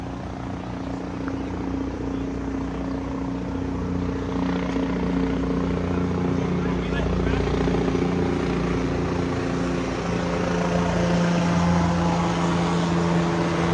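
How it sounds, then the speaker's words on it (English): Police helicopter flying overhead during a search after a jewelry store robbery in Yonkers, a steady low rotor drone holding at moderate distance throughout. "That's the helicopter flying above me."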